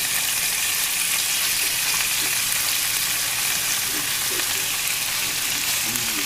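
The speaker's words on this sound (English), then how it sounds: "We're going to start frying up some chicken breast." Chicken breast fries in heated oil in a pan, a dense, loud, continuous sizzling hiss that holds steady throughout with no talk.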